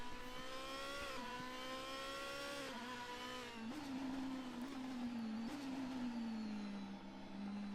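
Onboard race car engine in a sim racing game at Bathurst, a loud sustained high-pitched drone with gear-change dips and rising revs, steady and close with no talk.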